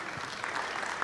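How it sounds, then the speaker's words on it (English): Audience applause at a city meeting honoring a citizen of the month, a steady wash of clapping sustained throughout at moderate level with no pauses. "that deserves a round of applause"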